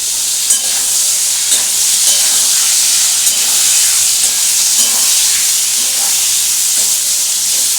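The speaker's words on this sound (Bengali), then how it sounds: "এটাকে আমি এখন একটু ভালো করে ভাজবো" A tomato fries in hot oil in a pan alongside pointed gourd for a homestyle soybean, potato and pointed gourd curry, giving a loud, continuous sizzle and hiss with faint stirring scrapes and no talking.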